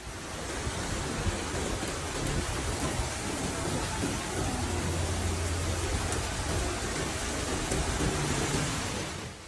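Heavy rain pours steadily with a broad, continuous wash during a storm of strong winds in New Orleans, with a low rumble rolling under it that suggests distant thunder; loud and unbroken throughout.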